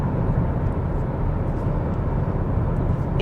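Inside a 2025 Toyota Camry XSE cruising on the road with wide tires, a steady low road and tire rumble mixes with engine hum and a faint wash of wind, constant and unbroken, with no talking.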